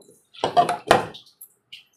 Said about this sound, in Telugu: ఇది మిక్సీ జార్లో వేసుకుందాం పప్పు